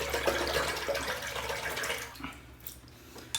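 A tap runs to rinse an Uno single-edge cartridge razor, a close, hissing rush of water that fades out partway through and leaves quieter stillness afterward.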